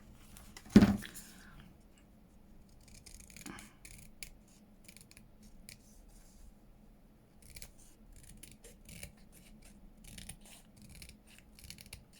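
Scissors trimming around the edge of a paper envelope for a junk-mail journal, opening with one sharp close snip followed by soft rustling, small snips and paper handling.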